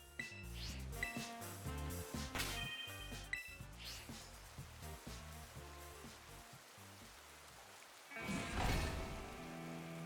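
Steady rain falls during a picnic in a Pokémon video game, a constant soft patter under game music with a brief louder wash of rain near the end.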